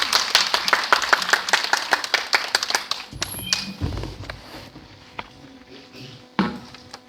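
Audience at an information session greets a speaker with brisk applause that lasts about three seconds, then fades to a few scattered claps and faint room noises.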